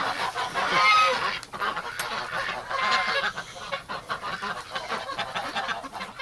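Ducks call outdoors in bitter winter cold around -45°C, a busy chorus of honks and quacks from several birds, fairly close and continuous with no talking.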